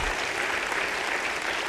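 Steady applause from a seated audience at a live session, dense, continuous clapping at a moderate level filling the whole span with no voices on top.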